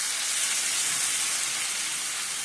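Tomatoes hit a hot pan after garlic and sizzle loudly, a steady hissing spatter that stays even and close throughout, with no talking.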